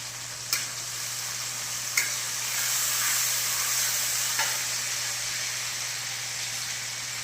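Tomatoes sautéing in a pan for a fish curry give a steady close sizzle and hiss, with a few sharp stirring clicks of the spoon against the pan, and no one speaks.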